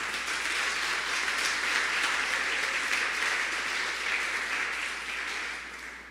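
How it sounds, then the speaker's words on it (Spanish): Sustained applause from a church congregation during a Spanish-language sermon, a dense, steady wash of many hands clapping that fades slightly toward the end. "Dale un aplauso a Jesús entonces."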